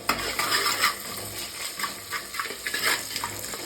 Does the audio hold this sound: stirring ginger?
yes